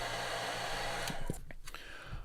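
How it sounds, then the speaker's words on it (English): A hair dryer blows steadily on white paint on a hand-painted longear sunfish fishing lure, a close continuous whir that cuts off near the end, leaving a few quiet clicks and handling noises. "I'm also going to hit the white with the hairdryer real quick."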